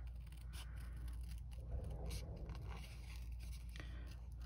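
Paper being cut with scissors in a paper-crafting session, the paper moved through the blades to trim a border, giving soft scraping snips close by and fairly quiet under steady room hum, with no talking.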